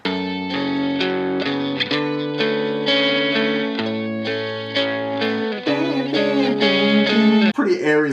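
Distorted electric guitar playing a lead melody through an inexpensive amp, layered with other guitar parts in a rock mix, steady and loud throughout with no talking.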